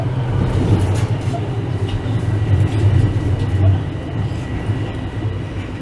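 A Toronto subway train rumbles into North York Centre station, with a steady low roar and rolling rattle that swells and eases as it slows.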